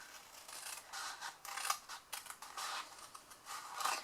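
Scissors snip through paper in a series of short, quiet cuts for a small folded tissue gift, close up with soft rustling between snips.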